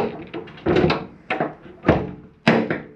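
A shower door inside a 2024 Sierra 391FLRB RV swings open, with a series of hollow thunks and knocks spread over a few seconds, close and moderately loud.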